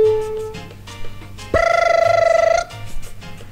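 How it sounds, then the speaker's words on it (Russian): A telephone on a 1991 radio broadcast rings with a loud, steady electronic tone lasting about a second, set among background music and soft sounds. "Что же звонит? Так, наш телефон."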